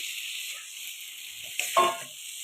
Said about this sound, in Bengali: এই যে এখন একটু ভাজা ভাজা হবে